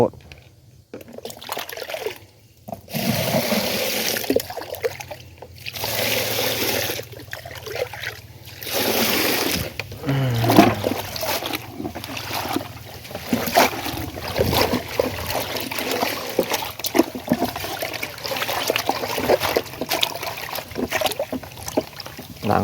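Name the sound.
washing dirt off vegetables in running water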